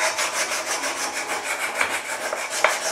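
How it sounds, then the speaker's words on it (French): A hand file rasps the outer skin off a piece of material in quick, rhythmic back-and-forth strokes, close and fairly loud, with no talking. "Je vais donc prendre tout simplement ma lime. Et je vais venir commencer à limer."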